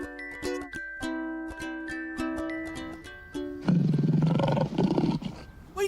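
A lion in a children's animal cartoon lets out a loud, rough roar lasting about two seconds, following a run of bright chime-like musical notes.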